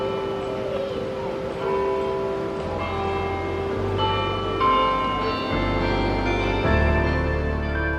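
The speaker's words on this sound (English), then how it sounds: "The sound of bells draws us in" Church bells ring out in a sustained, overlapping peal, with rich resonant tones layered over a steady low hum and no voices.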